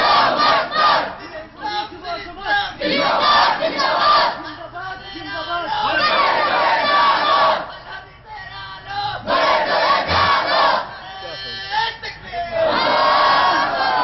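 A crowd at a Bangladeshi religious waz mahfil gathering chants Naray-e-Takbir in loud, repeated call-and-response rounds, a single leading voice answered by many voices in unison, close and forceful.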